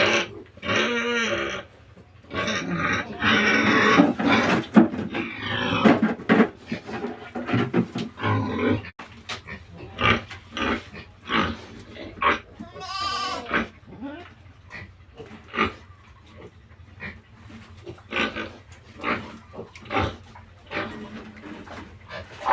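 An escaped native boar pig on a farm, loose outside its pen, grunting, snorting and panting in close, irregular bursts, with people talking intermittently nearby.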